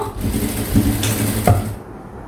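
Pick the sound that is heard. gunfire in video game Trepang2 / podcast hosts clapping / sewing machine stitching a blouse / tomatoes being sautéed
sewing machine stitching a blouse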